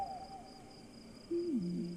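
An owl in the video game Proteus gives a faint descending call and then a clearer, louder double hoot, over a quiet ambient drone with a thin high tone.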